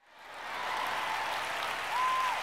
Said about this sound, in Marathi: आधीच्या 2 वेळेपेक्षा जरा कमीच वाजल्या टाळ्या